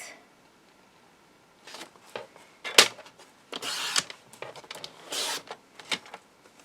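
A knife cuts a narrow strip from board for a large folio, with a few close, sharp scraping and slicing strokes and small handling knocks after a quiet start, no voices.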